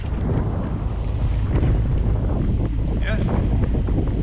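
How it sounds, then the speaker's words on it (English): Wind roars steadily across a sailboat on open water between Bequia and St Vincent, a loud, continuous rushing buffet with the sea beneath it, and a voice speaks briefly near the end. "the start of where the wind will be funneling in between these two islands, Bequia and St Vincent"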